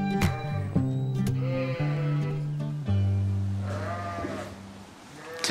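Sheep on a farm bleating in a series of loud, wavering, close calls, one after another with brief gaps and a longer drawn-out bleat near the middle.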